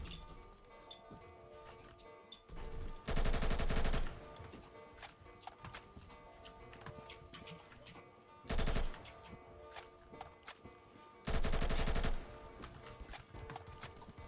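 A gun fitted with a muzzle booster fires in the video game Phantom Forces in three loud, rapid automatic bursts of about a second each. Quieter clicks and ticks come between the bursts.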